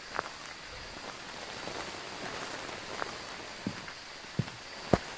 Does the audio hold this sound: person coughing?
no